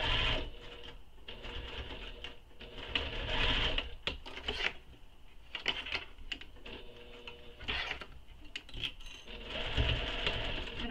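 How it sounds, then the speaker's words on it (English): A sewing machine stitches a tote bag through fabric and interfacing, running in rapid mechanical bursts with short pauses between runs, close and steady throughout. "Now you can stitch this with your interfacing facing up if you want."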